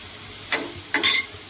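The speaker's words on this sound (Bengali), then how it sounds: "তেলের মধ্যে এই যে গোটা গরম মশলাটা আমি দিয়ে দিলাম" Whole garam masala drops into hot oil with onions frying, a soft sizzle under two quick clattering stirs close by.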